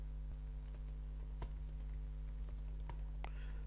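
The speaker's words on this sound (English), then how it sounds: "if you start typing in a cell in Google Sheet" Keys clatter in irregular light taps on a computer keyboard while text is entered into a spreadsheet cell, faint and close over a steady electrical hum.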